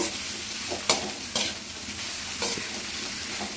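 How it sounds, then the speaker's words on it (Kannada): Sliced capsicum frying in a pan, a constant close sizzle broken by several crisp stirring scrapes and clacks against the pan. "ಈ ಥರ ಹೆಚ್ಚಿಟ್ ಕ್ಯಾಪ್ಸಿಕಮ್ ಈ ಥರ ಫ್ರೈ ಮಾಡ್ಕೊಳ್ಳೋಣ"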